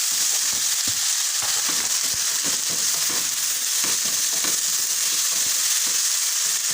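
Large-cut onions and tomatoes sauté in a pan with a steady, loud sizzle and frying crackle, with stirring scrapes mixed in throughout and no talk.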